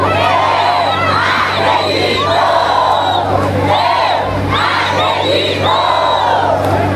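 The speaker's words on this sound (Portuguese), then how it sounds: "eu gostaria que a galera desse o grito da vitória" A large crowd at a political campaign rally in Salinas roars a loud, sustained victory chant in repeated surging waves of massed voices, close and dense throughout.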